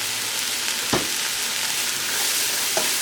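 Sliced leeks sautéing in oil in a pan for a jackfruit torta, a steady close sizzle with a couple of brief stirring scrapes.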